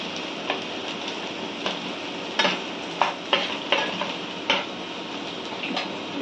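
Onion browning with salt in a hot pan is stirred, giving a continuous soft sizzle broken by repeated sharp scrapes of the spoon against the pan at an uneven rhythm, close and fairly quiet.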